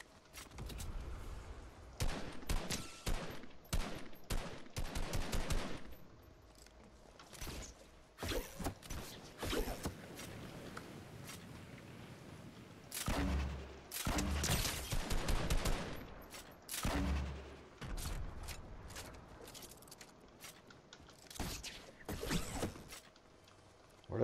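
Rapid bursts of drum gun fire from a Fortnite match, loud close volleys with short pauses between them and mechanical clicks between bursts, no talking.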